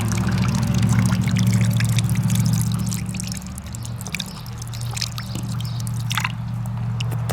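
Water pours from a working fountain tap in the middle of a ghost town, a steady close splashing stream that drips and trickles before flowing on.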